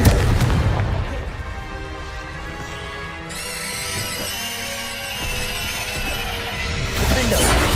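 Confringo blasting spell explosions in the Hogwarts Legacy video game, mixed with other combat spells, booming hits at the start and end around a stretch of ringing, tonal game effects and music.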